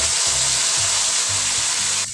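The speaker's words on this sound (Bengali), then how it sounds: "এখন আমি এর মধ্যে দিয়ে দিব সেই টমেটো, আদা, কাঁচামরিচ, জিরা যে আমি পেস্ট করে নিয়েছি" A spice paste of tomato, ginger, green chili and cumin sizzles steadily in a hot pan, a loud close hiss with a low rhythmic bubbling pulse underneath.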